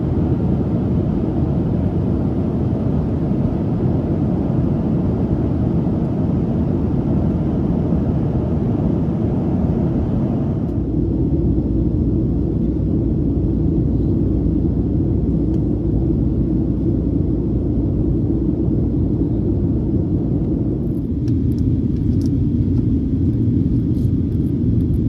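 A jet airliner at Chicago O'Hare makes a loud, steady, deep cabin roar throughout, with a slight drop in intensity midway, heard from inside and with no talking.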